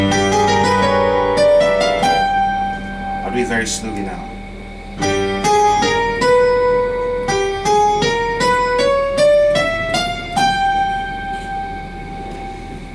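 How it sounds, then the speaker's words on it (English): A G half-whole diminished scale is played slowly on a keyboard, notes stepping upward one at a time with a sustained tone, while someone speaks briefly over it. "So the G half-whole diminished scale will sound like this."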